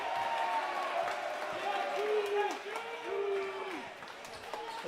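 Crowd in a gym at a women's college volleyball match cheering and clapping at moderate distance, steady and lively, with squeaking shoes and a voice talking over it.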